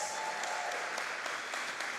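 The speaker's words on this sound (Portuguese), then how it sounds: "Seja bem-vindo, uma salva de palmas." A church congregation applauds steadily, a dense wash of many hands clapping together, with a few sharper claps standing out near the front.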